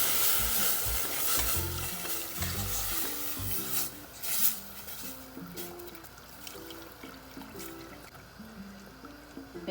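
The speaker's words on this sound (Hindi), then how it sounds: "इसे आप अच्छी तरह स्टिर करें ताकि इसमें कोई लम्स ना आए।" Milk stirred into a creamy sauce in a pan, heard as a soft continuous sizzle with gentle scraping strokes and light liquid sloshing, fairly quiet, while a melodic tune plays underneath.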